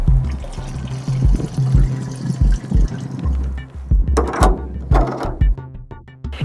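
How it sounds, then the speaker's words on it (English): A fuel sample being poured back into a light airplane's fuel tank, an uneven gurgling trickle of liquid with splashy bursts and low thumps close to the microphone. "And when you're all done, pour it back into the tank."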